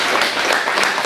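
A brief burst of dense clapping from the audience at a Kashubian and Kociewie folk storytelling contest, loud and steady throughout without a break.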